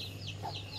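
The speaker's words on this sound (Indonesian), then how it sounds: "Ada anak ayam guys." Chickens and young chicks clucking with soft, brief chirps over a steady low hum; the calls come in short bursts and stay faint.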